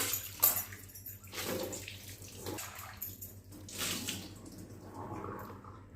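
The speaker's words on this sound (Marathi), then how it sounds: "तर आता हे आपण धुवूया" Water running and splashing as a cleaned, rust-free iron kadai is rinsed, with uneven bursts of flow and scrubbing splashes close by, no talking.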